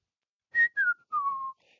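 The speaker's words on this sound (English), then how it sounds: "you hear him whistle the tune of the songbird" A person whistles a short songbird tune of three clear notes, each gliding slightly downward, the last held longest, in a quiet setting with no other sounds.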